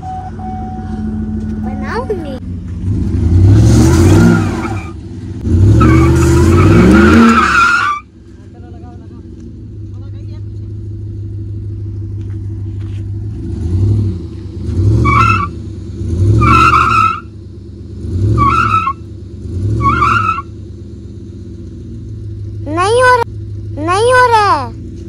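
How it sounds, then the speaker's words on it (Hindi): Car in Saudi Arabia pulling away and moving, with engine revving in repeated bursts, some tire noise and high whining tones, close and loud; people talk over it at times. "गाड़ी चल गई, जगह छोड़ दिया नीचे की थोड़ा।"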